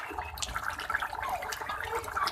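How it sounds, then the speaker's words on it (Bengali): Fish pieces are dropped into simmering curry sauce in a Bengali kitchen, making close, wet sloshing and bubbling with soft splashes and a continuous liquid hiss. "তো আমি মাছগুলো দিয়ে দিচ্ছি এবার মাছগুলো খুব ভালোভাবে ঝোলের সাথে ডুবিয়ে দেব ঝোলেতে"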